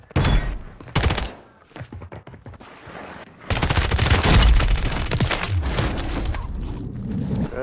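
Rapid bursts of automatic gunfire and sniper shots in the video game Call of Duty, loud and close, with dense volleys of shots coming thick and fast through most of the stretch.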